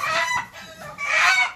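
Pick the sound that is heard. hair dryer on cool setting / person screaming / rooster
rooster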